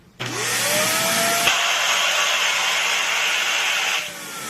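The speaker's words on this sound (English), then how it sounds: "Just use the vacuum." A vacuum cleaner switches on and sucks air steadily to test a taped seal, a loud continuous whine and rush running for about four seconds before dropping off, with no talking.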